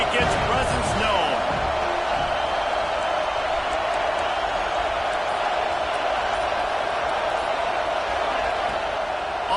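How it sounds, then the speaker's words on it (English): A college football stadium crowd roars in a steady, dense wash of cheering that fills the whole stretch, with a broadcaster's voice talking over it. "This crowd ready to make its presence known."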